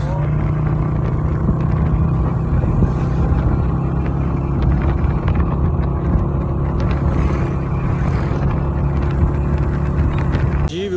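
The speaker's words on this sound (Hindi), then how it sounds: "अभी मैं हूँ बाइक पे।" Motorbike ride on a road in Pakistan, a close, loud, steady engine drone with low harmonic hum and rushing wind noise that continue unbroken from start to finish, with no talking over it.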